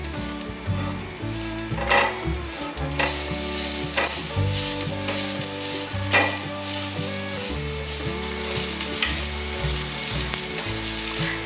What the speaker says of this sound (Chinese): 锅内放入少许油，油热了之后放入姜末炒香